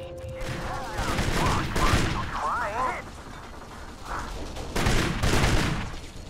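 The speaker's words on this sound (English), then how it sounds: "We're getting shot from behind" Gunfire in the game Kane & Lynch: Dead Men, with bursts of shots and heavy impacts from an ambush from behind, loud and fairly continuous. Someone talks over the firing.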